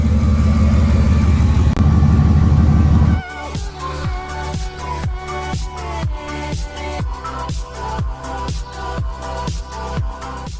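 A Pontiac Trans Am's engine idles close by with a steady, lumpy rhythmic chug after a brief louder rev at the start, running alone without voices.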